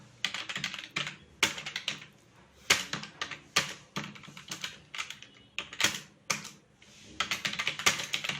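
Someone types an email on a computer keyboard, close and clear, in uneven bursts of quick key clacks separated by short pauses, with no talking.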